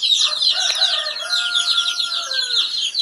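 Chickens with newly hatched chicks, a dense chorus of high peeping from the chicks over lower clucking from the hens, close and continuous.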